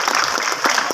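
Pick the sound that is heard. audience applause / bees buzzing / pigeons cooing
audience applause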